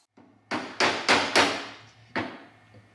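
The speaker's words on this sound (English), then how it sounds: "knocking the end off with a hammer" A hammer strikes metal five times in quick, uneven succession, knocking the end cap off an LMTV military truck starter, sharp and close, each blow ringing briefly before a short gap.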